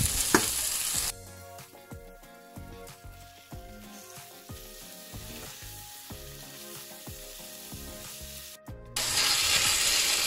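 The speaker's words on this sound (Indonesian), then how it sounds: "Ditumisnya kurang lebih 5 menitan, kemudian baru masukkan dagingnya." Meat and spices sautéing in a pan for semur betawi, a steady close sizzle with scattered clicks of stirring, and a louder burst of frying at the start and end.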